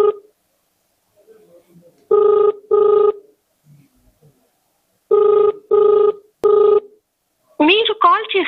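Ringback tone of an unanswered phone call, with paired buzzing rings separated by silent gaps, clear and close, followed by a brief automated voice at the end.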